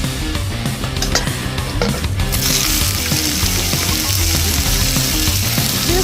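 Yakisoba noodles frying on a hot pan at an outdoor campsite, a steady loud sizzle that swells and brightens partway through, with occasional metallic scraping and clinks of a spatula.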